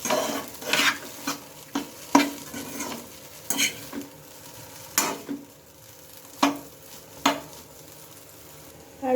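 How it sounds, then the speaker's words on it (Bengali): Chow mein noodles are tossed and stirred in a pan with salt, giving a soft background sizzle broken by a string of sharp, irregular scrapes and clacks of the utensil against the metal. "লবণ দিয়ে আবারও আমি ভালোভাবে মিশিয়ে নিচ্ছি"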